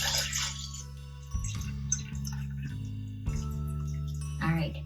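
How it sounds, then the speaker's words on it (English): Water is poured into glass jars in a few separate splashing pours, each one filling a jar to the top, up close while a person talks. "I'm going to fill them to the top. Water."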